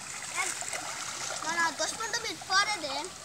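Children splash while swimming in a river, water sloshing and spattering continuously, with young voices calling out over the splashes at close range.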